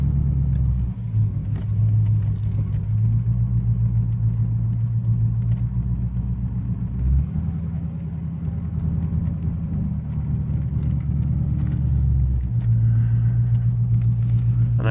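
A Corvette engine rumbles steadily and loudly throughout while the car is driven around, with low drone shifting in pitch around the middle and again near the end as it moves and changes speed.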